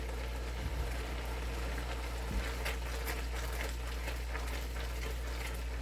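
Grated carrot simmering in milk for carrot halwa, a low steady bubbling hiss with soft scraping stirs of a spoon along the pot bottom, close and fairly quiet, no voices.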